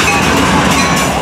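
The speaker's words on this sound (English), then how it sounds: "the work train, with 427 the leader. A pair of engines." Loud, steady rumble of a pair of diesel locomotives leading a work train, passing close by, a dense continuous roar with no pauses.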